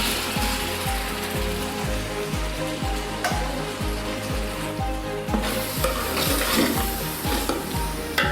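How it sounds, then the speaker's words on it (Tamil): Tomatoes and ginger garlic paste sizzle steadily in a pan, a dense continuous frying hiss with a regular rhythmic scraping or clicking beat running underneath throughout, close and fairly loud. "இந்த தக்காளியும் அந்த பேஸ்ட்டோட சேர்த்து நல்லா அப்படி நம்ம ஃப்ரை"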